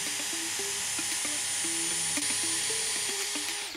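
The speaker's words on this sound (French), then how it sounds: "maintenant, on va faire perçage de cette partie-là. Donc, je passe en position 2. Je me mets en mode perçage." A DeWalt DCD791 cordless drill-driver in drill mode pre-drilling into oak, a steady high motor whine with a repeating pulsing tone as the bit works through the wood, loud and close, no talking.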